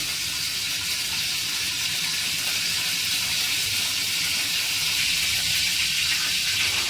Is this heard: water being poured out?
yes